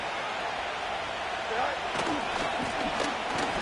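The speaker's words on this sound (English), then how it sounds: "This crowd into it now as we get to 3rd down." Stadium crowd roars in Madden 25 during a Steelers versus Packers night game, a broad steady rumble of cheering swelling slightly, with a commentator talking over it.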